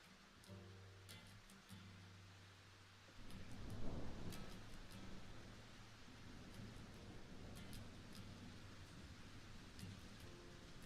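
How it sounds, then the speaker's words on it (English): Steady rain hiss in a lo-fi music track, a soft tonal melody and low notes at the start giving way to louder, continuous rainfall with a low rumble like distant thunder, all fairly faint. "Today I chose a lo-fi with some raining sounds"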